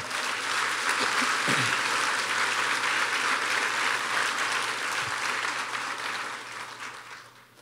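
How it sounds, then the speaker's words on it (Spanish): A church congregation applauds together in sustained, dense clapping that holds steady for several seconds, then gradually thins and fades toward the end. "Vamos a darle un fuerte aplauso al Señor"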